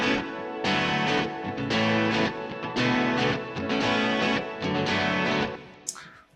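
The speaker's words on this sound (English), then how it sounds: "then that guitar over it sounds like this" Electric guitar runs through a Microcosm and other effects pedals, giving strummed chords in rhythmic bursts with a shimmering, effected tone. The guitar is close and alone, and a brief high glint closes the passage.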